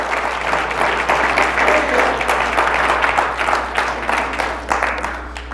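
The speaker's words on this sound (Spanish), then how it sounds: "Fuerte el aplauso al Señor." A church congregation applauding loudly and steadily during a sermon, dense sustained clapping with no pauses.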